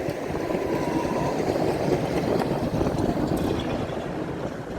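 A tram rolls along a street in Riga, a steady continuous rumble of wheels and motor lasting throughout, fairly loud and close with wind-like broadband noise and no talk.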